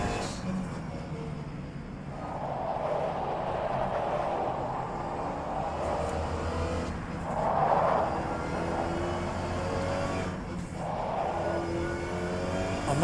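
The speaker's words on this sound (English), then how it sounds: "I might have also turned the tyre sound up a bit too far actually" Race car tyre noise in the rFactor 2 racing sim, turned up loud, a continuous rumbling and scrubbing roar under engine drone with swelling surges as the car slides on a sandy circuit, no talk.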